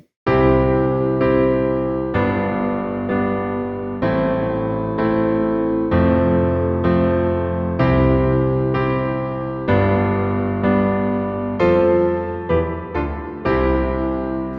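Piano chords play a song in steady, sustained blocks, each chord struck and held in a regular rhythm, rich and close with no voice.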